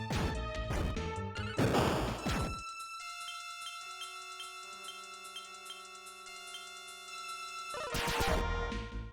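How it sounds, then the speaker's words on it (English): Critical hit sound effect from Dragon Quest 6 on the Super Famicom: rapid clanging smash bursts, then a sustained ringing chiptune chord, then another crashing burst, fairly loud and alone. "I love the critical hit sound that ends up just doing nothing."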